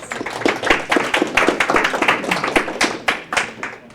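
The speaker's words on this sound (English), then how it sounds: "I think that deserves a round of applause." A small tech-talk audience claps in response to a web server demo, with distinct individual hand claps ringing out close and fairly loud, rising and thinning unevenly over a few seconds.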